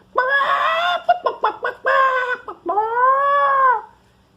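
A voice imitates a clucking hen with a run of short, choppy clucks followed by a longer drawn-out cackle, close and loud, heard alone.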